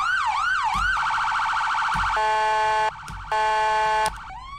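A police car siren plays in a Roblox game. A loud wailing sweep gives way to rapid, steady electronic tones that switch pattern and briefly pause before a final rising sweep.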